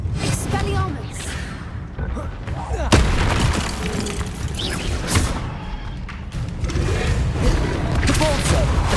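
Expelliarmus spell cast during combat in the Hogwarts Legacy video game, with dense booming blasts and thuds rolling through the whole stretch, mixed with in-game voices.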